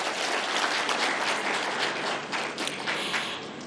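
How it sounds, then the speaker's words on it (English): Sustained audience applause fills a conference hall at a county governors' devolution conference, a steady dense wash of clapping at even loudness throughout with no talk over it. "Kindly give them a hand clap."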